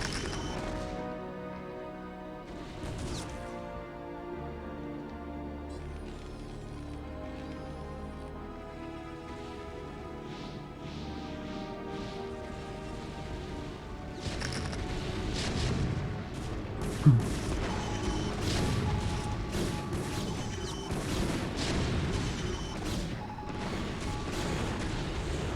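Cannons and other units fire in a StarCraft match, steady booming and mechanical gunfire layered under game music, the bursts thickening and growing louder in the second half.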